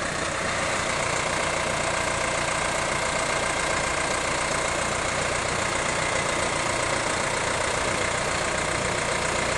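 A New Holland T4050 tractor engine rumbles steadily and loudly nearby while driving into a loader frame, a continuous dense drone with a slight knocking texture throughout.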